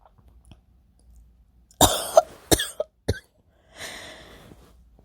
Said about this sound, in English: My cough is getting worse.